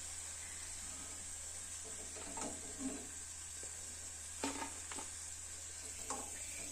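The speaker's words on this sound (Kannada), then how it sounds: "ಇದೇ ರೀತಿ ನಾನು ಇವಾಗ ಎಲ್ಲಾ ಬೆಂಡೆಕಾಯನ್ನು ಕೂಡ ಫ್ರೈ ಮಾಡ್ಕೊಂಡು" Okra kurkure frying in hot oil, a steady soft sizzle with a few scattered stirring clinks and scrapes, fairly quiet and with no voices.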